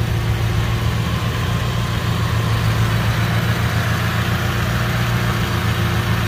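A 2000 Mitsubishi Lancer GLXi with a 1.6-litre 1600cc fuel-injected 16-valve engine and header exhaust idles smoothly, giving a constant low, even hum with a steady tone and no revving, heard alone and close.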